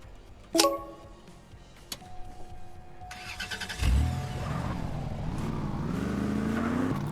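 A yellow Range Rover in a Ukrainian GTA game fires up with an engine-start whine, then revs and accelerates into a steady, loud engine drone.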